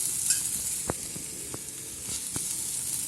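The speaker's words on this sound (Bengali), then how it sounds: "আমি যে পেঁয়াজটা ভাজছি কোনো রকম তেল কিন্তু নেই" A soft, dry sizzle of onion frying in a pan without oil over low gas, broken by a few sharp crackles and ticks at irregular intervals.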